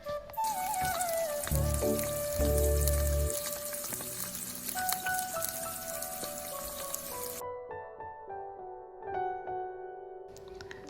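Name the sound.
potatoes frying in hot oil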